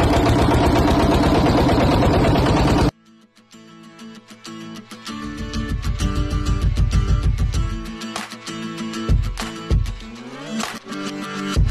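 A fishing boat's engine on a Sundarbans river in Bangladesh, on a crab-catching trip, kicks into life after a brief loud burst, then runs with a low rhythmic chugging that rises and settles, joined by a few knocks and clatters.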